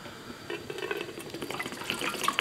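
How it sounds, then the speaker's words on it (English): Tap water runs into a larger cooking pot, filling it with about 64 ounces of water: a steady, close splashing and trickling stream that continues throughout without talk. "when I start the water in my bigger pot"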